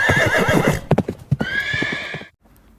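Horse hooves clip-clop in a few sharp, close steps, framed by a loud neigh at the start and another whinny right after, with the sound cutting off abruptly at the end.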